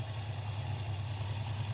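A Honda TRX 500 ATV with a Hondamatic transmission idles steadily in neutral, a continuous low engine hum heard up close with no talking.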